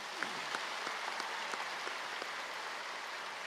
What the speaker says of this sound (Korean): 우리 목사님께 감사의 박수 한번 합시다